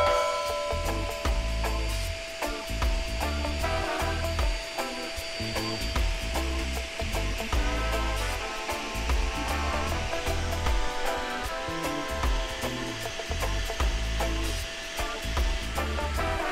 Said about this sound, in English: just turn on the pump